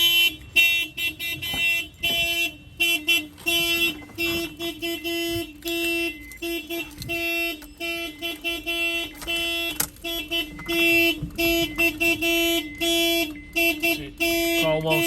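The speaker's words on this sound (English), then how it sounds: "this is the whole complete alarm system" A Honda S2000's alarm blares nearby, cycling through loud repeating electronic tones and whoops with short breaks between patterns.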